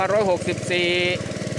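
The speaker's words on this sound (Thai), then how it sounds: "วันนี้ก็เป็นวันที่ 4 ของการสูบน้ำเข้าสระวัดหนองฟาน" An engine-driven water pump drones with a steady, pulsing rhythm close by while pumping water into a temple pond, with a voice speaking over it.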